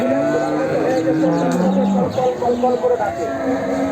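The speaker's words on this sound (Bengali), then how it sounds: "এই পাশে বাচ্চা সহ একটা সুন্দর গাভী আছে" A cow at a cattle market in Chandaikona, Sirajganj lets out a loud, drawn-out moo close by, its low tone sliding down, with background chatter and farm noise around it.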